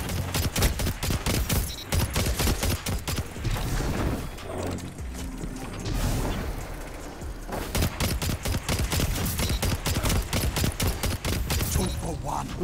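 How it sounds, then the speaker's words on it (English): Hand cannon gunfire from the video game Destiny 2 rattles almost nonstop in dense, rapid volleys with mechanical clatter. The firing eases briefly midway, then resumes loud and close. "I think he was trying to shoot me with like a hand cannon or something."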